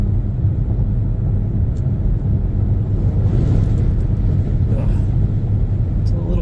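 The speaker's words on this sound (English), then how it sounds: "Big truck, a lot of truck traffic on this road." Heavy truck traffic on a windy highway near Cheyenne, Wyoming, heard as a continuous low, loud road rumble with faint higher hiss, no distinct pass-bys.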